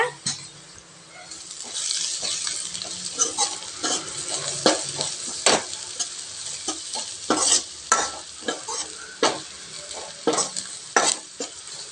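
Chicken liver and onions sauté in masala oil with a constant crackling sizzle, broken by repeated sharp scrapes and clacks of a spatula stirring the pan, close and fairly loud.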